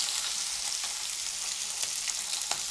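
Steak sizzling in a hot pan, a steady bright crackling hiss with occasional sharper pops, close and moderately quiet, no voices.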